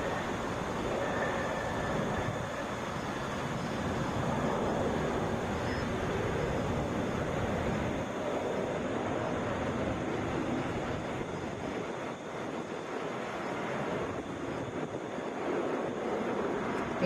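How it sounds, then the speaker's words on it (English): Delta Boeing 737-9GP arriving from Cincinnati and touching down at Atlanta's international airport, a continuous, fairly faint rushing roar with a slight swell and ease-off over the long stretch, no talk on top. "Delta 2673 coming in from Cincinnati, Boeing 737-9GP. Touching down about 15 minutes early."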